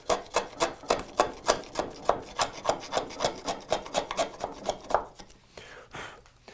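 Chisel driven bevel down into a wooden dado, giving about twenty sharp, evenly spaced rasping strikes at close range over several seconds, with no talking.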